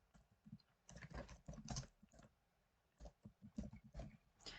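A name is typed on a computer keyboard in Canva, with quick bursts of close, crisp key clicks in two rapid runs separated by a short pause.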